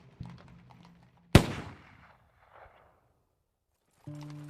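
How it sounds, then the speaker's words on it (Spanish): A single sharp gunshot cracks out loudly in a quiet night scene, followed by hoofbeats and a brief sustained tone. "El estruendo de un disparo sobresalta al caballo"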